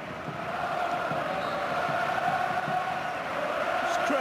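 A large stadium crowd at Barcelona's home ground roars and cheers steadily throughout, a dense, sustained wash of many voices celebrating Coutinho's cameo debut for FC Barcelona, without any break or lull.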